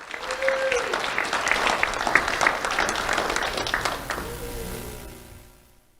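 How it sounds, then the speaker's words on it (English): An audience at a sheriff's office awards ceremony applauds warmly for about five seconds, a steady wash of many hands clapping together that fades out at the end. "Let's have a round of applause for Cason Clay."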